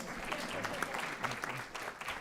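Steady applause from an audience at a school board meeting, a dense patter of clapping hands that holds at an even level, with no voices on top.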